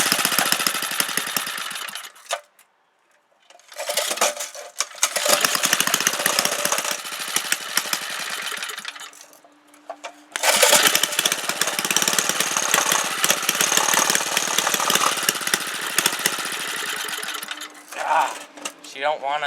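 A 3hp Briggs engine running near idle, a rapid rattling chug that sputters and nearly dies twice before catching again, loud and close, with someone speaking briefly near the end.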